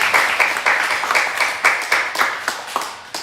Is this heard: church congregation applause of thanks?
yes